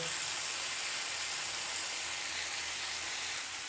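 Chana chaat masala roasting in a pan gives a steady, even sizzle and hiss that runs close and unbroken throughout, with no talking.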